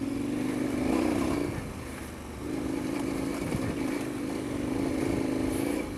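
A KTM 1090 Adventure R motorcycle accelerates uphill, its engine droning loud and steady with a brief dip in pitch before pulling hard again, wind noise underneath.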